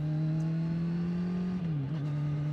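A Kawasaki Z900 SE or Yamaha MT-10 SP motorcycle is ridden with a steady, humming engine drone that dips briefly in pitch near the end, heard alone.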